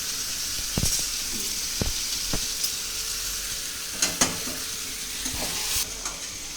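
Spicy red mutton curry with bone-in leg pieces being stirred in a pan: a steady oil sizzle and hiss throughout, broken by scattered scraping knocks of the spoon against the pan, close and fairly loud.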